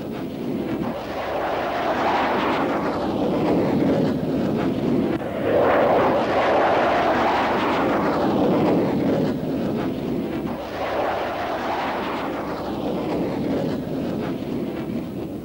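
A Hornet fighter jet flying, a loud sustained roar that swells and fades in repeated waves as it passes, with no voices.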